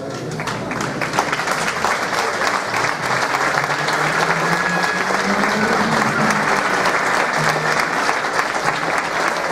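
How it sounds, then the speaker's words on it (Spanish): Strong, sustained applause fills a hall at a Santa Cecilia music awards ceremony for a municipal band, loud and even throughout, with a faint voice low beneath the clapping. "Fuerte aplauso."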